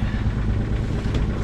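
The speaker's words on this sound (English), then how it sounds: "Just got the engine on now" A sailboat's engine runs at anchor before the anchor is lifted, a steady close mechanical idle with a low throbbing rumble and light clatter, no voices.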